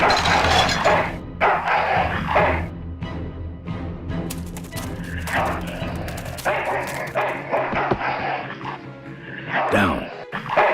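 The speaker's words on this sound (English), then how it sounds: "Bad dog." Dog barking and yipping in the video game Full Throttle Remastered, a run of sharp, close barks mixed with whimpers and clattering game effects, with music and other sounds beneath.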